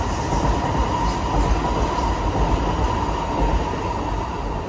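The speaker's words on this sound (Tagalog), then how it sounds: "Yan yung train." A train rolls past near Lower Silitar Water Reservoir, a dense, steady rumble and rush that holds loud and even throughout, with no voices.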